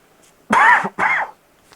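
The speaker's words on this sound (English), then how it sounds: "Oh, sorry for the cough." A single close, loud cough comes in two quick bursts, the second a little shorter than the first, with near silence before and after.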